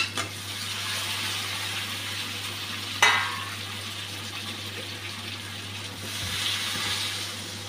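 Koi fish dropped into a pan of frying potatoes and spices for a curry, a continuous close sizzle with one sharp burst as the fish goes in, then steady hissing.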